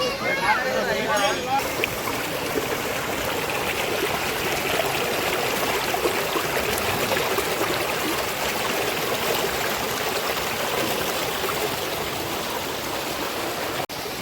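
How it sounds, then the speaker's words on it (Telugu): Spring water flowing through rocks near a Shiva temple at Perantalapalli in the Papikondalu area, a continuous close rushing and trickling wash that stays steady from start to finish. "ఇలా రాళ్లలో వచ్చే నీళ్ళు చాలా అరుదుగా తక్కువ"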